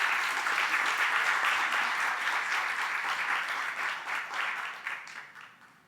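Applause from an audience after a keynote address at a retinoblastoma conference swells into a dense, even wash of clapping, then thins out and fades toward the end as the last hands stop.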